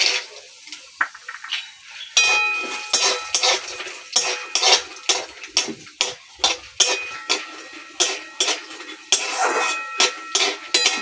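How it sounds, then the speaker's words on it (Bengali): Peanuts fry in white oil in a hot wok, a soft sizzle under a rhythmic run of sharp scraping and clinking stirs, loud and close. "এবার আমি বাদামগুলোকে ভেজে নেব।"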